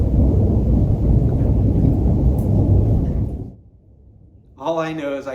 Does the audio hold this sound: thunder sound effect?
yes